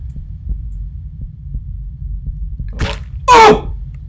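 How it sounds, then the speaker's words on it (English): Slow heartbeat thuds from a horror-style pizza delivery video game, soft low pulses roughly every half second, followed by a sharp gasp-like burst and a louder cry toward the end. "Wait till your heartbeat calms down."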